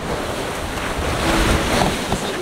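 Ocean waves slosh and break around a racing sailing yacht out on the Roaring Forties, with steady wind rushing across the microphone; a continuous, fairly loud wash with no voices.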